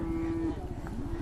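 A large bullock gives a single low, drawn-out moo, close by and fairly quiet, its tone holding steady before dipping and rising again at the end.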